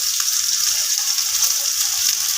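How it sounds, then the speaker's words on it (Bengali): Chopped onion frying in hot mustard oil, giving a constant, close, bright hiss of sizzling with no pauses. "পেঁয়াজটাকে খুব ভালো করে ফ্রাই করে নেব"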